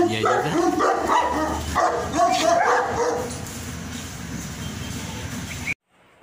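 Two dogs bark in short bursts close by, with voices talking over them at the start; the barking fades after about three seconds and the sound cuts out near the end.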